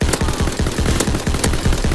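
The M1928 submachine gun in Call of Duty fires in a loud, continuous rapid burst, dense and sustained for the whole stretch.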